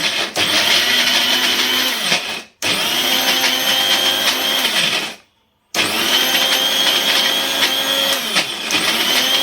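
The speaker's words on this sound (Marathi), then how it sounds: "हे सगळं 2-3 वेळा मिक्सरला फिरवून घ्यायचं आहे" A mixer grinder whirs loudly as it blends masala with coriander, running in three close bursts separated by brief stops.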